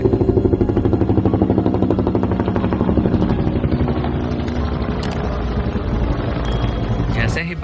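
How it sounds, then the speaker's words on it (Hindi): A cartoon helicopter arrives with a loud, close, rapid chopping of rotor blades, steady throughout and fading slightly toward a few clanks at the end. "बाबा हेलीकॉप्टर लेकर यल्लू और मल्लू के घर पहुंच जाते हैं"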